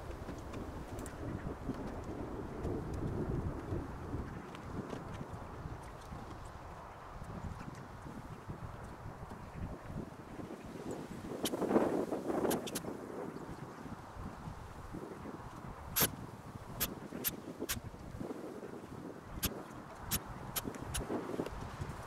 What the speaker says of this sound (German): Da der Wind ordentlich weht